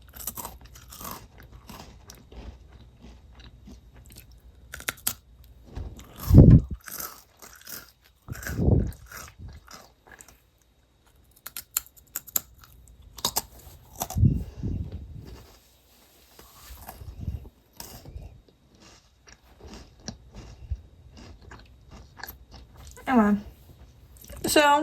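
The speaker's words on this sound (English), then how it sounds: "Also, I got crackers. Eating ASMR." Crackers are bitten and chewed up close, with crisp crunches and crackly bursts separated by quiet pauses and soft mouth sounds over about twenty-five seconds.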